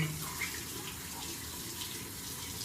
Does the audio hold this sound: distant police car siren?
no